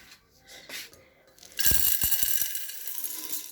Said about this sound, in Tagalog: yung manual grinding machine.